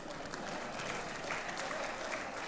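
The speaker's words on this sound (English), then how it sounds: "That haircut deserves a round of applause." A room full of people claps in a short, steady burst of applause, dense and even throughout, with faint voices mixed into the crowd noise.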